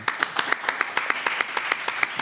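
A small group of people clap for a performer, roughly a dozen distinct, evenly spaced claps over about two seconds, fairly close and with no talk.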